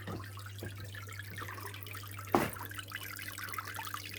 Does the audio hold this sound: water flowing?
yes